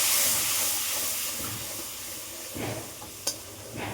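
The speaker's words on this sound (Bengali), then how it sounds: "এই সব মশলা কিন্তু মিশিয়ে এর মধ্যে ঢেলে দিলাম" A spice paste of ground cumin, ground coriander, ginger paste and turmeric hits a hot frying pan with a loud, steady sizzle and hiss. Occasional scrapes and a sharp tap mark stirring, and no one speaks.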